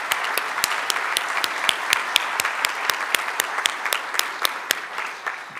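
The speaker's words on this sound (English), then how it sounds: "let's give our first round of applause to our students here today" Applause fills the hall at a white coat ceremony for nursing graduate students, the crowd clapping loudly and steadily with sharp individual claps standing out throughout.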